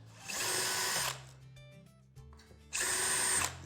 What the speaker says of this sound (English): Pre-drill that